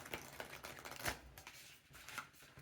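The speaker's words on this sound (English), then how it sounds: "It's hard for me to shuffle this way." A Hocus Pocus tarot card deck is shuffled by hand in soft, uneven riffles and flicks. Faint and close, with no voices.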